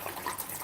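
Water pours into a blender jar while June plum is being blended, a brief, close splashing trickle with small bright gurgles.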